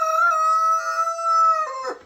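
A rooster crows loudly and close in a barn, one long drawn-out call with a clucking break at the end.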